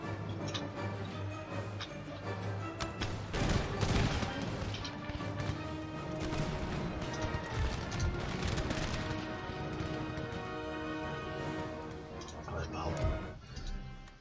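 Musket volleys crack and rumble across an 18th-century battlefield in Empire: Total War with the Prussian army, several sharp bursts of gunfire rolling together over ongoing battle noise while someone talks throughout.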